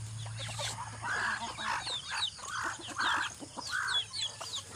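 Backyard chickens cluck nearby in short repeated bursts over a faint steady hum, with softer clucks scattered between them.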